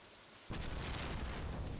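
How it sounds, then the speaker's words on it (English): Thunder in Stardew Valley breaks in suddenly as a broad, sustained rumbling boom that stays loud and fills the background after a quiet start, with no voices. "I just heard it thunder"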